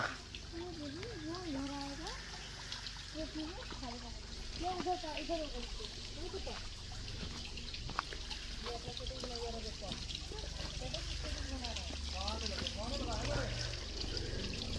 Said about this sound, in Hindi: इस ट्रैक को करते हुए जो शांति और पानी की आवाज़ हमें फील हो रही है वो मैं आपको भी सुनाती हूँ